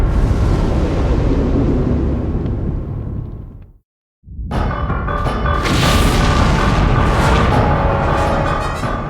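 A huge, loud boom from a nuclear blast in space fills everything with a heavy, sustained rumble, cuts to a brief total silence, then a second roaring blast swells back in, dense and powerful, with no voices.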